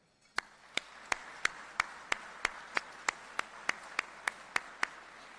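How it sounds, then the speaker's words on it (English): Single sharp claps repeat at an even, slow pace, about fourteen in a row, close and fairly quiet over a low room hum at the Long Beach Fire Department meritorious awards ceremony. "please join me in a round of applause for them"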